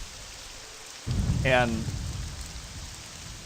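Rain falling in the video game Morrowind, running with the Morrowind Graphics Extender, comes in as a steady broadband hiss that starts abruptly, with a brief rising tonal sweep and a single spoken word over it.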